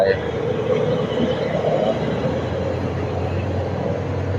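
Train 351 rolls into Ratchaburi station in Thailand with a steady, low rumbling drone that holds throughout, moderately close, while a voice talks over it.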